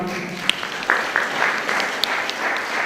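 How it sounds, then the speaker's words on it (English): A gathered audience claps for a woman called up to come forward, with loose, uneven claps and sharp individual hits over a steady patter. "As she comes, let us clap for her."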